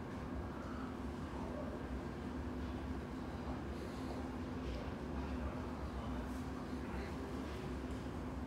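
A Chiltern Railways passenger train runs steadily on the rails, giving a continuous low rumble with a faint hum, heard from inside the carriage for the whole stretch.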